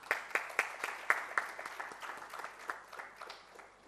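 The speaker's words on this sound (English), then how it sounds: "Ladies and gentlemen, huge round of applause." An audience at the Dakshin Healthcare Summit 2024 applauds after a lamp lighting ceremony: steady, fairly close clapping from a large hall crowd that slowly thins out toward the end.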